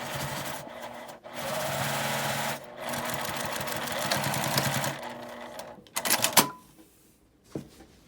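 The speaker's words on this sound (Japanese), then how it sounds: "紐にも端ミシンをかけます" Close by, a sewing machine stitches several sustained runs along the edge of a folded fabric strap for a drawstring knapsack bag, then stops, followed by a few clicks and handling noises.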